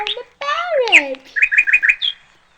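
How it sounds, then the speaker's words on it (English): A parrot calls in a shrill, close series of squawks and whistles, ending in a rapid run of four or five bright chirps, loud and with no talking over it. "Oh my gosh, a parrot!"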